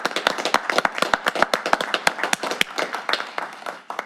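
Audience applause honoring state champions at a council meeting, a dense round of sharp hand claps that fills the room steadily for several seconds before tapering slightly at the end.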